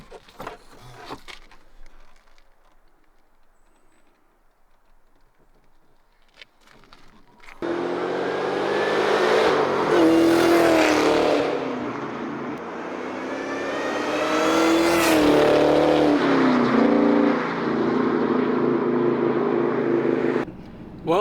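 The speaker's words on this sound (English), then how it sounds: "This is the last drive for the year with the Cobra." An SN95 Ford Mustang SVT Cobra is out on a drive. After several seconds of near silence, the close engine note cuts in loudly, rising and falling through revs, then continues as a sustained roar.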